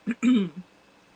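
A woman clears her throat with two short, close guttural bursts, followed by a faint trailing rasp and then quiet.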